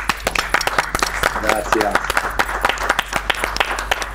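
An audience applauds a guest at the end of a talk show interview, a dense and lively burst of many hands clapping close by, while a voice speaks briefly over it.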